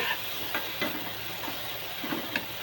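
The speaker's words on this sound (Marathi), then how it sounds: "चांगला भाजलाय कांदा टोमॅटो" Onion and tomato frying in a pan for aloo paratha with green chilli moth bean bhaji, giving a steady low sizzle with a few brief stirring clinks and scrapes, quiet and close, with no voices.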